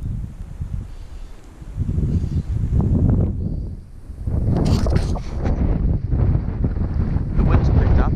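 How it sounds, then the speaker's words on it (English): Strong wind gusts outdoors on the west coast of New Zealand buffet the microphone with loud, continuous rumbling that dips briefly before surging again, with no talking. "The wind's picked up"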